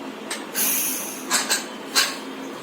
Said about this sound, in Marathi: कुकरच्या शिट्ट्या